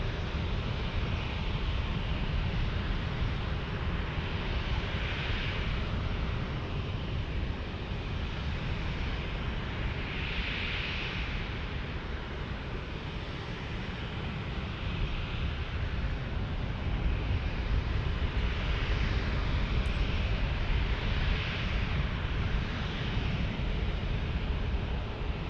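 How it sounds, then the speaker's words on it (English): An Allegiant airliner takes off at San Diego International Airport, its engines making a broad, distant roar that swells and fades in waves, steady and faint under wind for the whole stretch. "here goes Allegiant. I don't think I've been here for an Allegiant takeoff."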